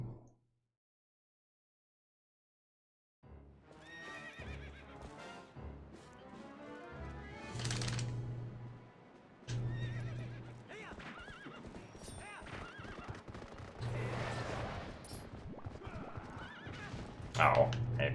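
A horse neighs and whinnies in the Twilight Princess HD video game during horseback riding, with hoofbeats clip-clopping at a gallop in several loud bursts after a short silence, while someone talks over it.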